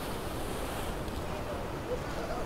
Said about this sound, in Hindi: ये देखिए कितनी खतरनाक लहर आ रही है